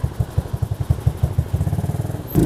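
An ATV engine with a twin exhaust runs close by, its pulsing putter steady and loud for a couple of seconds before a brief louder rev at the end.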